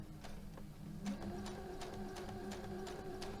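A sewing machine stitches through chain-pieced quilting fabric, a quiet steady mechanical hum with a rhythmic series of needle taps, close and alone.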